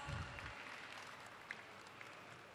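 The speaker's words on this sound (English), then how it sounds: "A round of applause, please." Faint, distant applause from an audience at a startup talk patters steadily, quiet and diffuse throughout.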